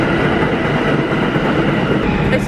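A New York subway train rumbles through a station with a continuous loud, dense roar of wheels and cars, close by, with no pauses.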